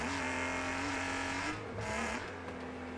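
Car engines drone steadily in the racing video game Wreckfest, a sustained whining motor note that dips and shifts pitch with gear changes, loud and continuous without talk.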